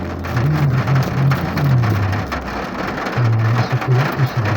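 Steady rain falls in Pekanbaru, a dense continuous patter with a low droning hum running beneath it throughout.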